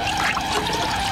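A splashing effect is made live in a big water-filled container during a radio show, a brief, close, continuous burst of bubbly sloshing and trickling.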